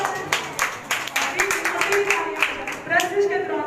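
Rhythmic group clapping from a worship congregation at a Feast of Tabernacles (Sukkot) gathering, steady beats with voices singing or calling out over it.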